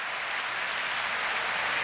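A seated crowd at a political event applauds in a steady wash of clapping that holds at an even level throughout, with no voices on top.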